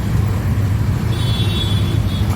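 Busy road traffic with fast-moving vehicles on a morning route: a loud, close, continuous low rumble of engines and tyres that holds steady throughout, with a faint higher whine passing midway.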